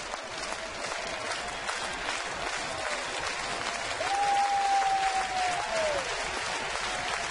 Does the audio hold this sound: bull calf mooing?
no